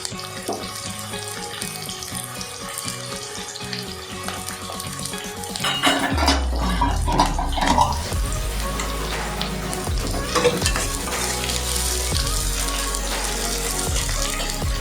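Onions frying in a pan for ridge gourd chutney, a continuous sizzle that grows louder partway through, with occasional clinks of a utensil against the pan.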